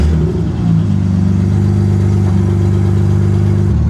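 A BMW E90 335 sedan engine runs loud and close with a steady, deep mechanical drone that rises slightly in pitch, an even rev held without speech.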